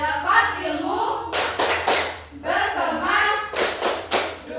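A primary school class chants a rhythmic clapping rhyme at the end of a lesson, with bursts of sharp group claps alternating with children's sung voices.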